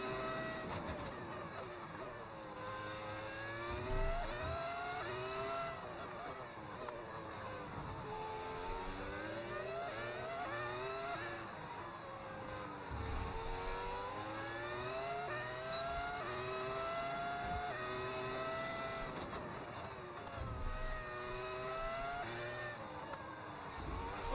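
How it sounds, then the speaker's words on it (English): A Ferrari Formula 1 car in the F1 26 racing video game screams through a lap, its high-revving engine note rising and falling steadily with gear changes and corners, loud and continuous throughout. "Oh, it's a Ferrari."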